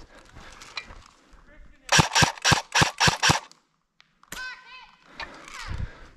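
Airsoft guns fire in a quick burst of about seven sharp, evenly spaced shots during a game, with people talking just before and after the volley.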